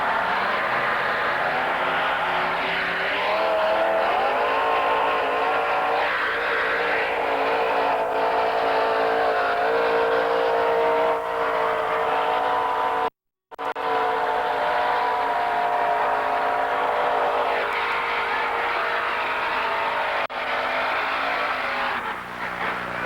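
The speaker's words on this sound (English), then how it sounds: "the Plum Crazy 1934 Ford, powered by a 482 Chevy" A 1934 Ford hot rod powered by a 482 Chevy engine at a drag strip in 1985, a loud sustained engine roar that climbs and holds, broken by a brief dropout midway, then continues strongly.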